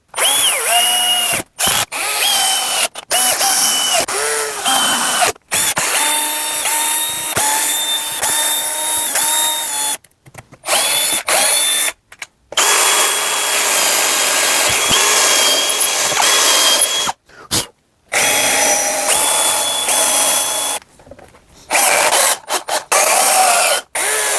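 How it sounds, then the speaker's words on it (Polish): A power drill drives screws into workshop pieces already glued with cyanoacrylate, while building a take-apart surfacing table. It makes loud, close bursts of whirring that stop and start repeatedly with brief silences between. "i jak chwilę podeschnie, przykręcę je jeszcze wkrętami."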